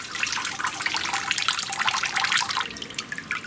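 Water pours steadily into a 5 gallon bucket, a continuous bright splashing rush without pause or talk.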